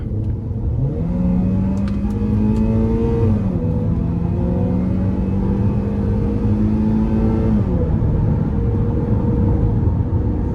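A 2015 Chevrolet Captiva Sport LTZ SUV engine revs hard under full throttle, pitch climbing then dropping at gear shifts before climbing again, loud and close.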